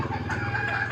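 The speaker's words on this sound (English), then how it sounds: "Rooster is a domestic bird." A rooster crows in a short, harsh, drawn-out call, close by and clear, with no talking.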